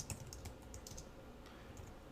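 Keys on a computer keyboard clatter in a short quick burst while coding JavaScript, faint, close clicks in an uneven rhythm with no voices.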